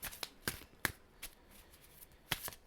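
A deck of playing cards is shuffled close by in a few quiet, quick riffling bursts separated by short pauses.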